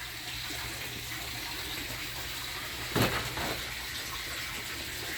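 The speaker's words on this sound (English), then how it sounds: "That's got the pump pumping the water." A pump pushes water through a frozen, icy duck pond, giving a continuous watery gush and trickle with a brief louder splash midway, outdoors and without talk.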